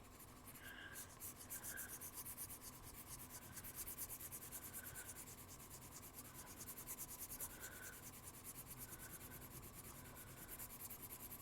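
A scratchy colored pencil rubs steadily across paper, a faint, continuous dry scraping with small rhythmic strokes and no voices.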